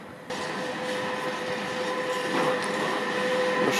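A train rolls through Łowicz Główny station during a thunderstorm, a steady loud rumble with faint wheel noise and a thin tonal squeal running throughout, no voices.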